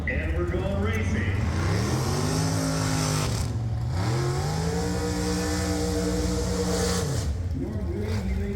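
A Pontiac muscle car revs loudly at a drag race, engine pitch climbing and falling in repeated sweeps as it is brought up to the line, steady and close throughout.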